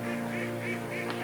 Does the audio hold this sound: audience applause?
no